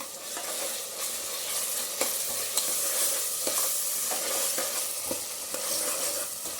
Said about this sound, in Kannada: 1 ನಿಮಿಷ ಹೀಗೆ ಹಾಕಿದ್ರೆ ಎಣ್ಣೆಲಿ ಚೆನ್ನಾಗಿ ಫ್ರೈ ಆಗೋಗುತ್ತೆ